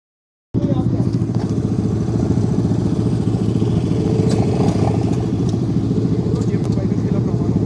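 Superbike engines rumble loudly and steadily as a motorcycle club group rides off from Jaipur, India, a continuous close, throaty drone.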